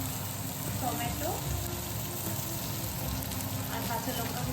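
Chopped tomatoes fry with browned onions in a pan, a moderate steady sizzle with soft bubbling and a few faint scraping sounds, steady throughout.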